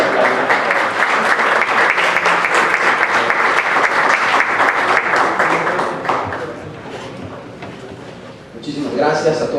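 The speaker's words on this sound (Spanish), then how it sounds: "Un fuerte aplauso." An audience at a society assembly applauds loudly and steadily for about six seconds before the clapping thins out, with a few voices and shuffling sounds at the end.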